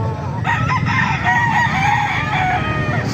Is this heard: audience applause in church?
no